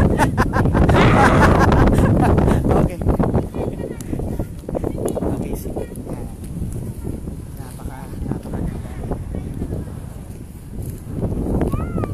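Very strong wind on Guimaras Island rushes and buffets loudly, strongest at the start, then continues in rough gusts with scattered knocks and rustles.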